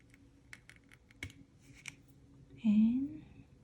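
Scissors snip through strips of false eyelashes, a few light crisp cuts close by, followed by a louder brief rustle as the lash pieces are handled.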